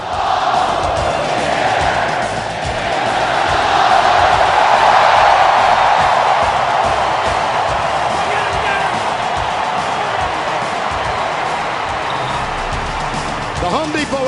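Packed stadium crowd at an LSU versus Florida college football game, a loud continuous roar of cheering that swells in the middle and holds steady, with a commentator's voice faintly over it.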